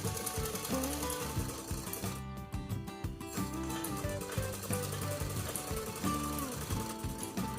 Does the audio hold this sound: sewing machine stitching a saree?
yes